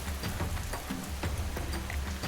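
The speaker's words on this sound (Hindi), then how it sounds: "वहां इतनी तेज बारिश शुरू हो गई मानो नेचर भी इस डेडली स्टोरी को सुनाने में साथ दे रही थी." Heavy rain pours steadily at an outdoor spot beside the Siang River, with a dense continuous hiss and scattered louder drop impacts throughout.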